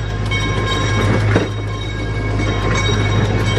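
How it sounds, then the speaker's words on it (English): An amusement-park ride train at Castle Park, Riverside, California rumbles past close by, a loud continuous roar with a steady low hum and a brief sharp burst midway. "Oh, there goes the train."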